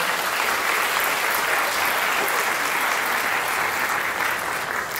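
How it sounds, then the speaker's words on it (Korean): Wedding guests in a convention ballroom applauding, a dense steady wash of clapping from many hands that holds evenly for the whole stretch. "축하의 박수 부탁드립니다."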